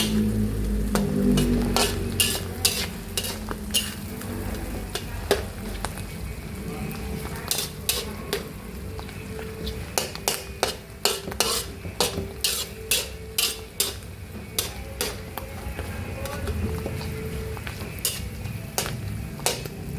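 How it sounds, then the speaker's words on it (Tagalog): Mushrooms and ox tongue cooking in a pan for Kapampangan lengua, with a metal spoon clinking and scraping as it stirs over a soft sizzle, close up and rhythmic, with no voices. "Lutuin muna natin ng konti until lumambot po yung ating mushroom ng konti."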